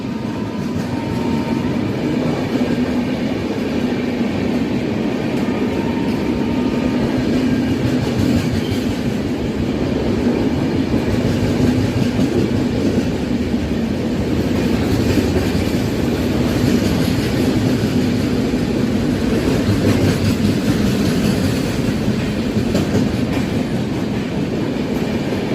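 WAP-7 electric locomotive hauling the Konark Express through a station without stopping: a continuous loud, close roar of wheels and coaches with steady clickety-clack over the rails, no talk.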